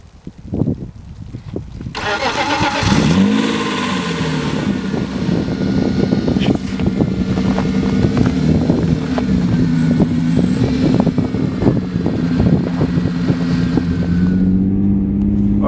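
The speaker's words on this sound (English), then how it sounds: "we're taking the E36 for a little test spin" A BMW E36 car starting and idling on a snowy night, rough at first, then settling into a loud, steady engine rumble that holds for the rest of the run with small rises and dips.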